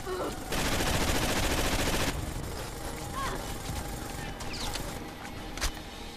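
Blind-firing from cover in the co-op shooter Rainbow Six: Vegas 2: a loud, dense burst of rapid automatic gunfire for about two seconds, followed by quieter scattered shots and battle noise under occasional voices.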